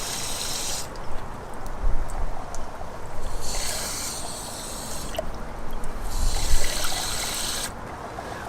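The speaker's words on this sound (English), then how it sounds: "Now we're gonna go ahead and add water." Water is poured into the radiator of an 88-98 Chevy C/K1500 during a coolant flush, a steady close trickle and gurgle running in bursts with brief pauses between pours.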